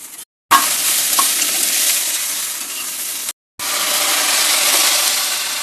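Green chilies and raw tamarind peel fry in a pan for a Telugu tamarind chutney, giving a steady, loud broadband sizzle with faint stirring scrapes, broken by two brief silent gaps.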